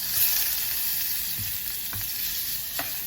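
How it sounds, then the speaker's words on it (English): A tablespoon of butter sizzles in a pot on low heat as the base of a white sauce for Jamaican-style lasagna, a steady close hiss with a few faint stirring knocks and no talking. "So I'm going to add like a tablespoon of butter"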